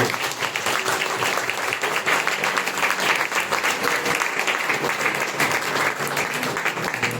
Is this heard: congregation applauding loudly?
yes